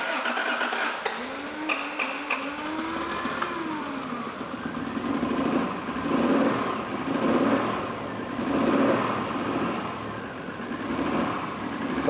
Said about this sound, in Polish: No nie jest to ładny dźwięk silnika, ale jakieś oznaki życia są